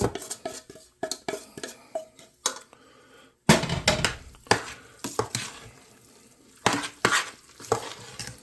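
Sautéed cabbage and onions being mixed into mashed potato for Irish colcannon, a run of close, uneven spoon scrapes and soft squelches against the bowl.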